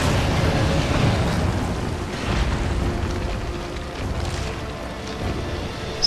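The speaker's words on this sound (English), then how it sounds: "Another grenade." Grenade blast in the video game Resident Evil 4, a deep rumbling boom that rolls on loudly for several seconds, with smaller bursts and debris rumble trailing behind.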